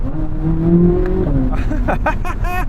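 A Corvette Z06's naturally aspirated V8 rumbles low and steady, then revs up in several quick rising bursts, loud and close from inside the car.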